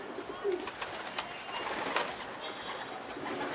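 Pigeons coo softly in a coop, low burbling calls over faint background noise, with a couple of brief sharper sounds.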